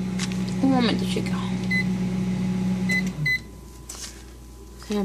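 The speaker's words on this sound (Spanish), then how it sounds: "En el microondas que le estoy cocinando algo chiquito" A microwave oven hums steadily while heating a small portion of food, then stops, followed by a few short beeps. A voice talks over the running hum.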